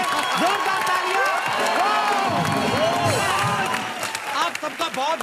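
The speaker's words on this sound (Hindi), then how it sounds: "एक बार किल दिल की पूरी टीम के लिए जोरदार तालियां" A studio audience at a comedy show claps and cheers loudly for the Kill Dil film team, with whoops and excited shouts rising over dense clapping before thinning out near the end.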